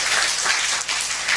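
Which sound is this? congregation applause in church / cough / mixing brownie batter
congregation applause in church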